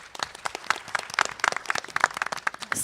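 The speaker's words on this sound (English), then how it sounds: "Please give her a round of applause." Brief, lively clapping from a small family forum audience in a meeting room. Individual claps sound close and distinct, dense and loud throughout, with no voices over them.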